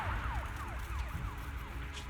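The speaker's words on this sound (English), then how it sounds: "Inspector Bringer's car has arrived" Police car siren in the video game Zenless Zone Zero, a rapid repeating electronic wail sweeping downward several times over a low engine rumble as the car arrives, moderately loud.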